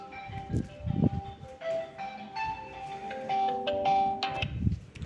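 A phone ringtone plays a short electronic melody of bright sustained notes at moderate volume, with soft thumping knocks in the background.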